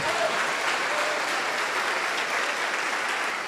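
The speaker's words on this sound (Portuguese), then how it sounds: "Vamos dar uma salva de palmas para o nosso Pai." A church congregation applauds together in a dense, steady wash of clapping that fills the space without a break, loud and even throughout before easing slightly at the end.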